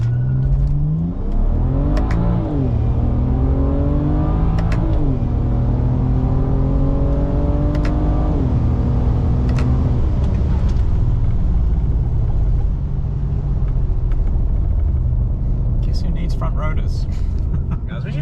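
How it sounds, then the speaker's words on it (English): A BMW with an N54 Alpina engine accelerates through the gears, its deep engine rumble climbing in pitch, dropping at each shift and climbing again, then settling into a steady drone as it slows, with people talking over it. "we're going to show you a little bit of an acceleration and then deceleration"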